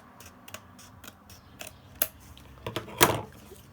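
Scissors trim the paper edges of a handmade craft pocket, giving several crisp, separate snips spaced irregularly at close range. The snips are quiet, with the last one loudest, and no one speaks.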